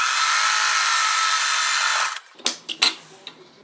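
A sewing machine stitches fabric scraps in a steady, loud whirring run that stops after about two seconds, followed by a few short clicks and handling sounds close by.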